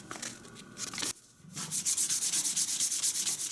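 Sandpaper rubs over a wooden piece being distressed for a primitive-style aged finish, making a close, gritty scratching that pauses briefly and then picks up again in quick, even back-and-forth strokes.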